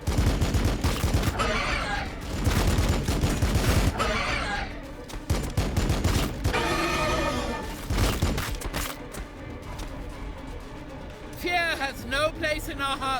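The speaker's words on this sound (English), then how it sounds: "Laying down fire." Sustained bursts of rapid gunfire and explosions from the Warhammer 40K Battlesector strategy game, loud and dense with overlapping shots, while a voice talks over the battle and creature screeches rise near the end.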